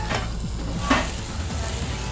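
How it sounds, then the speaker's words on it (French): Broth poured into a hot pan while cooking leeks and asparagus, giving a continuous close sizzle and bubbling hiss with a couple of brief sharp utensil taps. "On va mettre un petit peu de notre bouillon."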